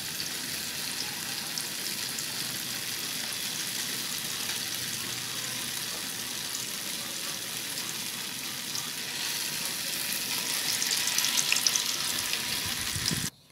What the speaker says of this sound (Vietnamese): Rồi bây giờ tàu hũ mình đã chiên xong rồi nè các bạn.